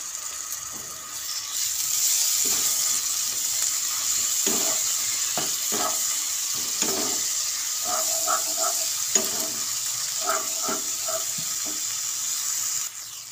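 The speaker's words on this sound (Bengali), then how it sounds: "আমার পেঁয়াজটা ভাজা ভাজা হয়ে এসছে।" Onions frying in a pan for a chicken dish, a soft continuous hiss with occasional gentle crackles and stirring scrapes, steady and close-up, heard alone without speech.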